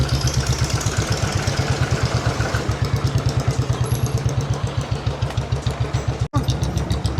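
A tractor engine chugs steadily at close range with a fast, even low-pitched pulse throughout, passing by on a rural road, with no voices.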